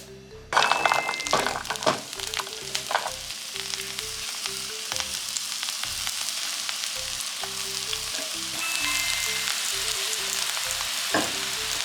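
Ingredients stir-fried in sesame oil over medium heat for a Chinese-style miso stir-fry, a steady close sizzle with repeated spatula scrapes and knocks against the pan, one sharp clatter near the start.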